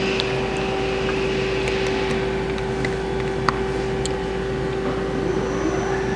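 A Doosan Puma GT-3100L CNC lathe spins at 300 RPM in low range, producing a steady, loud mechanical hum with a single sustained tonal whine and constant broadband drone, unchanging throughout.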